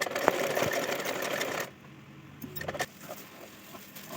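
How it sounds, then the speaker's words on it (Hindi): A sewing machine whirs steadily while stitching a princess-cut blouse, running continuously for over a second before stopping, followed by faint handling clicks. "अब दूसरे वाले पार्ट पर भी इसी तरीके से सिलाई करनी है हमें"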